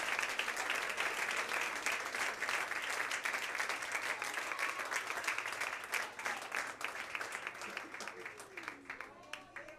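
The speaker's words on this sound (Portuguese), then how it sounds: "Aplauda ao Senhor." A church congregation applauding during a worship service, a dense sustained wash of many hands clapping that carries through the whole stretch, with some voices mixed into the crowd noise.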